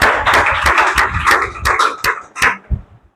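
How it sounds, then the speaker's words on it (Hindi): Teacher's Day audience clapping along, a dense run of hand claps that thins into a few scattered claps before fading out. "बहुत बढ़िया भाई, ताली बजाओ इनके लिए।"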